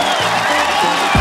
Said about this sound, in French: On vous applaudit et on continue donc